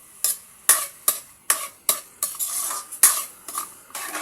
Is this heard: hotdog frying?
yes